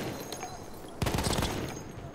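A burst of rapid automatic machine gun fire in Battlefield 1 erupts about halfway through, loud and sustained for under a second, over a steady background of game noise.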